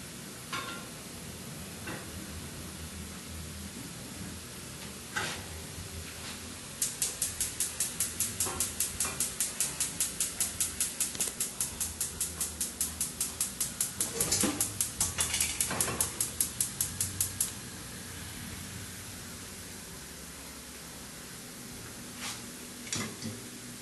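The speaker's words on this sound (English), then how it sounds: "We fry the fish for 5 minutes until crispy and brown." Fish frying in oil until crispy and brown, a steady soft sizzle with a dense run of fast crackling pops in the middle stretch and occasional louder clatters, no talking.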